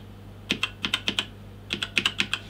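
Keys clatter on a Mission GGK 3 5 mechanical gaming keyboard, two quick bursts of sharp, crisp clicks typed close up at an even pace with a short pause between.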